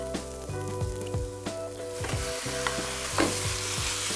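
Diced lamb leg hits a hot pan of onions and sizzles steadily up close, with frying hiss and occasional scrapes and clinks of stirring.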